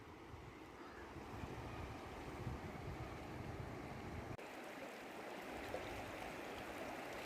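The Ganges flowing at Haridwar gives a steady broadband rush of moving water, continuous and fairly loud with a windy edge, and nothing else stands out.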